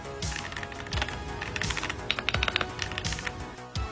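Typing on a KZZI K75 Pro 75% wireless gasket-mount mechanical keyboard, a close series of crisp clacky keystrokes, quickening to rapid bursts midway, with a few deeper thocks and no talking.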